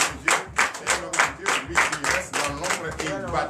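A church congregation at a Sunday service in Comè, Benin claps loudly in rhythmic bursts, with a speaking voice running underneath the applause.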